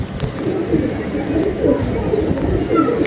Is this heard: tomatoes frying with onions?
no